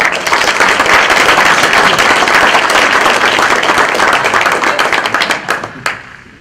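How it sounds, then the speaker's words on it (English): An audience at a nonprofit's annual meeting breaks into a loud, dense round of applause that holds steady, then thins into a few scattered claps and fades out at the end. "So give them a big round of applause."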